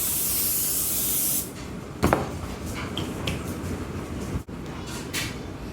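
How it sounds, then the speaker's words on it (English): Cooking spray hisses onto a pan before roasting chicken, in one loud, steady burst of about a second and a half, followed by quieter kitchen handling sounds and a few short clicks. "I am going to spray this pan."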